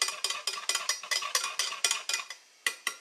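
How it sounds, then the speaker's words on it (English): Spoon scrapes repeatedly inside a pot as a heating homemade CBD gummy bear mixture is stirred, a quick steady rhythm of close scraping strokes with no talk. "I'm going to keep stirring on it from time to time just to make sure that it's not congealing in one spot"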